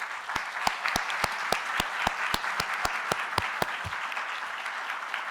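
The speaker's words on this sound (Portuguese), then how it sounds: "Palmas para o deputado Raul." Audience at a lecture applauds Deputy Raul with steady, dense clapping, punctuated by a few sharp, louder individual claps in a regular beat throughout.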